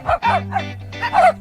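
A dog barks in several quick yips and woofs over roughly a second and a half, with a steady low hum running underneath.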